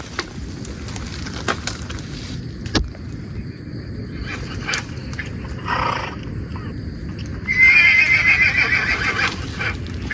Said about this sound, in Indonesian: Ini suara kuda benar itu.